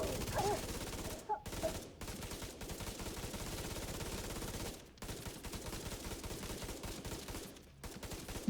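Steady rapid gunfire in a video game, continuous volleys broken by a few brief silent gaps, with no talk over them.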